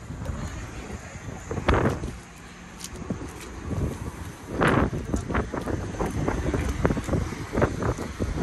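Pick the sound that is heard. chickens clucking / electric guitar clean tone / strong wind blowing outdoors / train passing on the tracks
strong wind blowing outdoors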